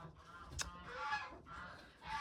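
Hens squabble over a nest box with faint, harsh honking squawks and clucks, muffled and low in level.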